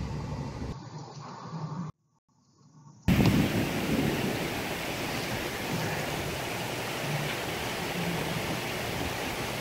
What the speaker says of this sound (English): You can see there's a lot of rain coming down.